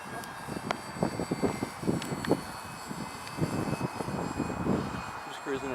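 A ParkZone Artizan RC airplane cruises at half throttle in windy conditions, its motor whine faint and steady in the background while people talk nearby throughout.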